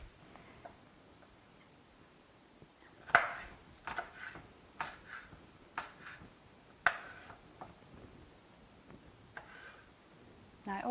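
A knife slices orange peppers on a cutting board, giving a quiet run of sharp, separate taps and cuts at an uneven pace.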